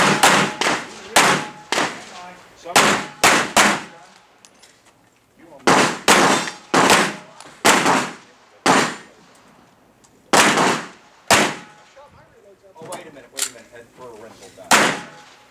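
Repeated gunshots from a rental gun at an indoor shooting range, sharp loud reports fired in quick clusters of two to four with short pauses between volleys.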